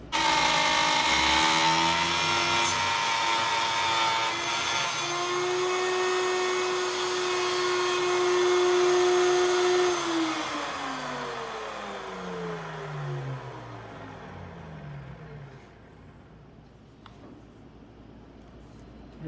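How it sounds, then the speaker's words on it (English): Shop vacuum picking up wood shavings after routing a cutting board, a loud steady whine that holds and then winds down in pitch as the motor slows to a stop. "So I'm going to vacuum some of this up and then we'll continue on."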